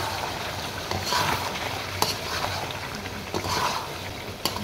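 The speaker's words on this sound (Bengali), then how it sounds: "এটা এখন ভালো করে আবারও ভেজে নেব" Spices for a beef and potato curry frying in hot oil, a steady close sizzle and crackle with occasional stirring scrapes and clinks, no talking.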